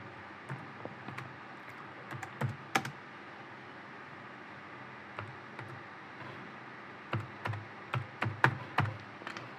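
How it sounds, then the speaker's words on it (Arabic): Close computer keyboard typing in two short bursts of quick key clicks separated by a quiet pause, crisp and fairly soft, no talking. "فهكتب الكوماند على السي ام دي"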